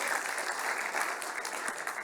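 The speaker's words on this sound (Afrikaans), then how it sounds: "kom ons gee vir die Here 'n hande klap" A church congregation claps hands together in steady, dense applause that holds at an even level throughout, close and unbroken with no voices standing out.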